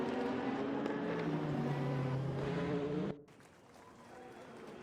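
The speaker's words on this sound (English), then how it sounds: "I hope you enjoy some car noises." A GT3 race car engine roars in a racing video game set at the Spa circuit, a steady loud drone that suddenly drops to a lower, quieter hum partway through.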